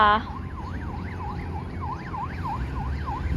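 A wailing siren rises and falls in a steady, rapid cycle over a rumble of traffic, fairly distant, with a brief sharp onset at the start.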